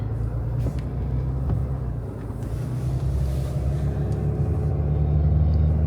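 A vehicle towing a camper rolls down a road on a chilly day, producing a steady low engine and road rumble with heavy wind buffeting across the microphone, continuous and unbroken throughout.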